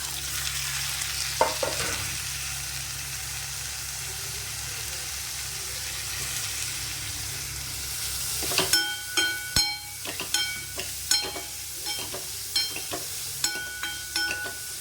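Onions with tomato, green chilli and curry leaves sizzle in a pan under a steady frying hiss. Partway through, a burst of louder crackling comes as the ingredients go in and are stirred with a utensil tapping the pan.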